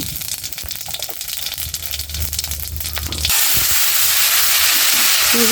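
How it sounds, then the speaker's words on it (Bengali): Cumin and radhuni seeds hit hot oil in a pan as a tempering, with a loud, steady, close sizzling hiss that bursts in suddenly after a few seconds of quieter kitchen clatter. "এখানে তেল দিয়ে দিচ্ছি গরম মধ্যে জিরার রা রাঁধুনি ফোড়নটা দিয়ে দেবো"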